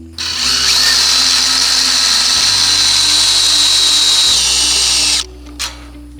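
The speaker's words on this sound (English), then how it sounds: "screwing them in is not the way you're supposed to be installing these hooks" A power drill drives hooks into fence posts while paddocks are built for sheep, giving one loud, steady whirring run of about five seconds that shifts in pitch partway through, then stops with a short click.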